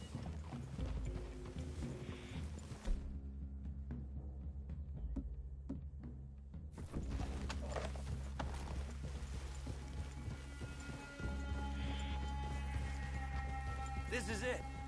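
Horses trotting in the video game Red Dead Redemption produce a steady, rhythmic clip-clop of hooves mixed with game ambience, moderately loud throughout, while characters talk over it.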